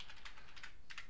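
Quick bursts of typing on a computer keyboard during a software coding session, a few close clustered keystrokes, faint and alone with no talk.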